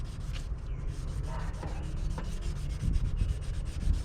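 Abrasive level 1 pad sanding an oxidized car headlight, a steady close scratchy rubbing that runs continuously, with rhythmic back-and-forth strokes.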